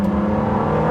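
A Ford GT Heritage Edition pulls away in first gear with a loud, close, steady engine drone that holds strong for a short moment.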